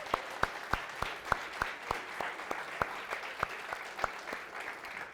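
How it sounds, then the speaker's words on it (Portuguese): A church congregation claps in a steady, evenly spaced rhythm, the sharp hand claps sounding faint and distant with no talking over them. "Vamos aplaudir o Senhor por isso?"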